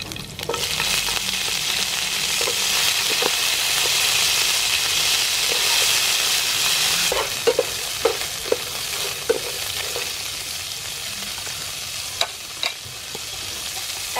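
Young green pepper and mussels are stir-fried in a hot pan: a loud, steady sizzle and hiss gives way to softer frying broken by sharp spatula clacks and scrapes.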